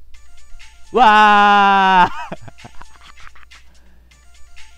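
A mobile phone ringtone sounds in a visual novel game scene, a loud, steady tonal ring lasting about a second, followed by a short exclamation from a voice and quieter background music.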